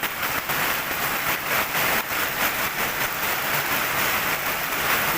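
A downpour of heavy rain in Kerala roars as a steady, loud wash of hiss with faint rhythmic patter pulses running through it, no voices.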